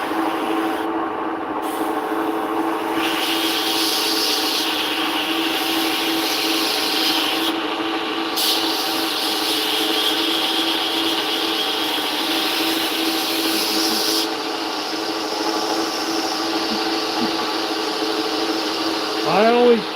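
A belt grinder grinds a knife blade by hand, a steady abrasive hiss and whine over the running motor, with brief shifts in pitch as the blade is lifted and pressed back to the belt.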